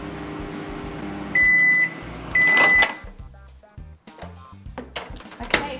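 A microwave oven set to power level 7 hums steadily while melting Wilton candy melts, then beeps sharply in two bursts and clunks as the door opens and the bowl is taken out and set down.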